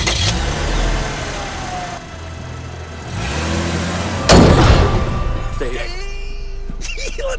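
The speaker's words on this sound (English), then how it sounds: "the car actually started when they turned the key" A car engine turns over with a key and catches, followed by revving. A mix of voices and other film sound plays over the engine noise.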